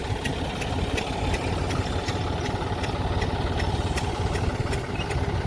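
A tractor engine, freshly installed, idles steadily nearby with a rapid, even chugging pulse and a light metallic ticking on top, heard alone without talk.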